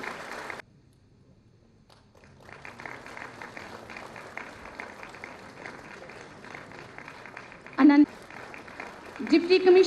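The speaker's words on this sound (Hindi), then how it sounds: "तालियों की गूंज ऊंची होनी चाहिए।" Audience applause at a two-day health conclave in Jammu, a government launch event. A brief quiet gap gives way to sustained, moderately loud clapping in a large hall, with louder swells near the end and a voice mixed in.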